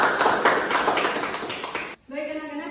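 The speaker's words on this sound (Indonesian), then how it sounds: "Oke, tepuk tangan untuk Sylvie." Schoolchildren in a classroom applaud a classmate, a brief burst of brisk clapping lasting about two seconds before it cuts off and a voice begins speaking.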